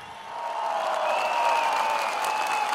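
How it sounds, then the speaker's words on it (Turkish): A large outdoor political rally crowd applauds party leader Hikmet Çetin, a broad, continuous roar of clapping that holds steady and fairly loud throughout. "Genel başkanımız Hikmet Çetin'e bir yürekten alkış daha"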